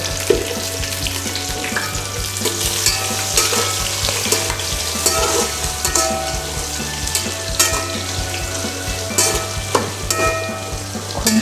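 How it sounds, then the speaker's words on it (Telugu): Green chillies and onions fry in a pan for a vegetable biryani, a steady close sizzle with scattered crackles and occasional stirring clinks, no talking. "కొంచెం వేగిన తర్వాత పచ్చిమిర్చి, ఉల్లిపాయలు కూడా వేసేస్తున్నాము."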